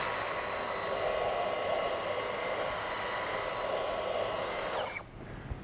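Dyson V15 Detect cordless vacuum cleaner with anti-tangle tool, used on a sofa, whines steadily and loudly with a constant high motor tone, then cuts off abruptly near the end leaving near silence.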